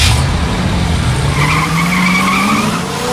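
Car tires skid and squeal in a loud, sustained peel-out, a rising screech over a rumbling engine that holds steady for about three seconds.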